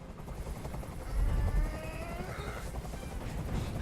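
Helicopter noise in the video game Detroit: Become Human: a steady, loud, throbbing rotor rumble that runs unbroken through the whole stretch, swelling briefly near the middle.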